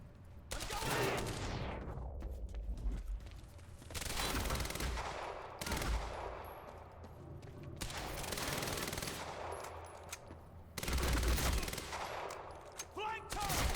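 Repeated bursts of automatic gunfire in the action game Quantum Break, clustered volleys every couple of seconds with a few dense fusillades, fairly loud and continuous through a combat scene.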